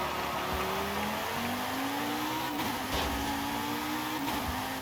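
KTM X-Bow GT2 race car in Forza Horizon 5, its engine droning and rising in pitch through gear changes, steady and loud throughout with no talk.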